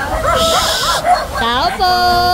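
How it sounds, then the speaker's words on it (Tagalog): Several dogs bark and yip close by at a rural house on a windy afternoon, bursts of barking and whining overlapping with people talking. "Ay, madami din pala yung aso."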